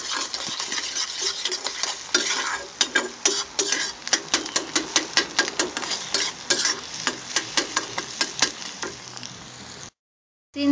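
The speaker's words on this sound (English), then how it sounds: "Now we're going to scramble the egg." A utensil repeatedly scrapes and taps against a pan while an egg is scrambled, with steady fast clicks and a soft sizzle underneath, close and continuous for about ten seconds before stopping.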